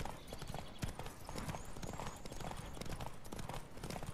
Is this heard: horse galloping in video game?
yes